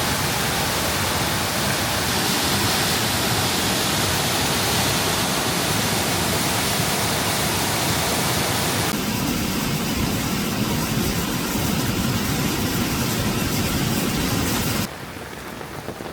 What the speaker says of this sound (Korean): 갑자기 시원한 폭포 소리가 나서 뭔가 보니 진짜 폭포가 생겨 있네요.